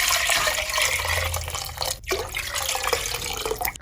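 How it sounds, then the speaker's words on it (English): Tap water runs over shelled groundnuts being rinsed, a continuous close splashing hiss with a brief break midway, no speech. "right now I'm going to give it a quick rinse"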